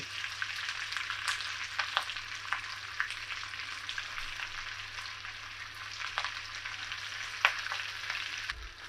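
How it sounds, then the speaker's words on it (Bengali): Eggs frying in a pan for an egg masala, turned over as they brown: a steady close sizzle runs throughout, broken by scattered sharp crackles and clicks of the spatula, with no voices. "ডিমগুলো আমি উল্টিয়ে পাল্টিয়ে একটু ভেজে নিয়েছি"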